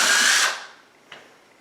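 A power drill whines loudly for about half a second while driving a screw at an angle into stripped wood on a subwoofer box for two 12-inch Alpine Type R subs, then stops, followed by a faint click.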